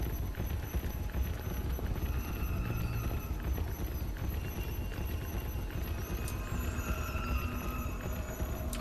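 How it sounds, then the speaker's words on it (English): Ghost pig footsteps in the horror video game DreadOut: a steady, continuous patter of hoof-like clip-clop steps under a dense, noisy game ambience with faint high tones. "I'm following a freaking ghost pig."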